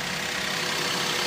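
A Maruti Zen car's engine idles, a brief, steady, even hum heard close with no voices over it.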